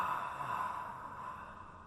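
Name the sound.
four-stage exhalation while walking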